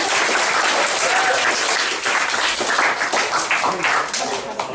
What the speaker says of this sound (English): round of applause for all improvisers there